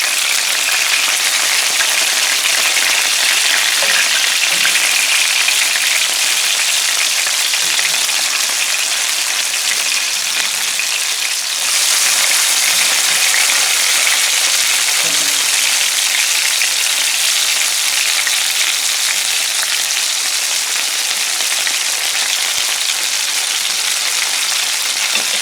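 Fresh lake fish fries in a pan outdoors, giving a loud, steady crackling sizzle like heavy rain that runs unbroken for the whole stretch, with no voices over it.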